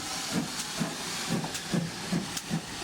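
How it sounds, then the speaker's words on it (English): An express passenger steam locomotive departs with rhythmic chuffing steam hisses, about six evenly spaced bursts over a constant hiss, loud and close. "Express passenger train here."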